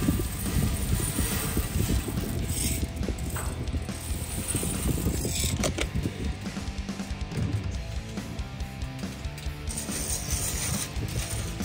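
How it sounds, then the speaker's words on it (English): Unroasted coffee beans stirred with a whisk on a Blackstone griddle over medium heat, giving a steady, busy rattling and scraping that runs continuously and close throughout. "We're gonna put them on the Blackstone, medium heat, and then keep whisking it."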